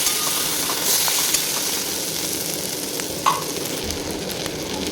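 Spices being stirred in a frying pan for a potato and hog plum sour dish, a constant close hissing sizzle with occasional scrapes and a light knock of the spatula.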